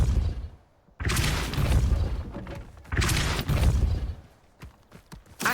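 Depulso spell cast in Hogwarts Legacy: two loud, broad whooshing bursts near one and three seconds, each swelling and fading like a forceful blast, followed by a few short sharp knocks.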